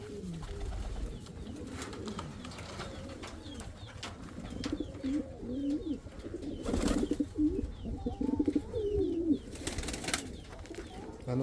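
Pigeons or doves coo repeatedly in a video game, soft rolling calls layered over one another with a steady ambient hum and a couple of brief brighter bursts.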